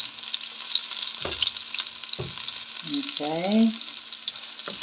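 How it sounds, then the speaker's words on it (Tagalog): Onions for chicken mechado sizzle in a pan with a soft steady frying hiss and a few stirring clatters, and a person speaks briefly near the end. "At ilalagay ko yung ating sibuyas."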